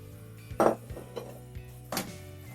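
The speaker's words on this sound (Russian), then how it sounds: "И все это хорошо перемешиваем." A spoon stirs minced meat, sautéed onion and rice in a pan, giving a few sharp metallic clinks and scrapes spaced irregularly against a quiet background.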